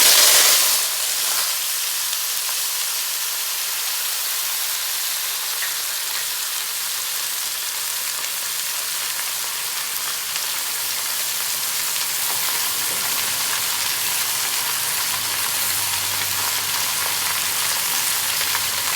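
Vegetables frying in a pan produce a loud, continuous sizzle, close up and unbroken for the whole span, with no talking over it.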